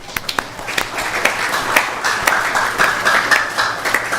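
An audience at a Sunday feast program for Shri Krishna Janmashtami gives a group of devotees a round of applause, a steady wash of clapping in a room with a few sharper claps and faint voices.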